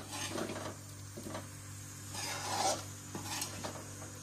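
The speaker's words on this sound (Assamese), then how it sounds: "ভাজিহে আছে" Jackfruit chorchori frying in a pan while being stirred, a close, continuous sizzle with rhythmic scraping and metal strokes against the pan over a low steady hum.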